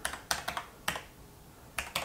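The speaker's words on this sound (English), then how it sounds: "then we're going to type in the password" Password being typed on a computer keyboard: quick bursts of close, crisp key clicks separated by short pauses, alone in a quiet room.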